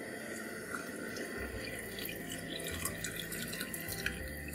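Water runs steadily from a tap into a pan for making rice with preserved foods in a home kitchen, a constant splashing stream with faint drips, heard alone without talk.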